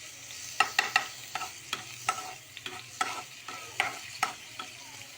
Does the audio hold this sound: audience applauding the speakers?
no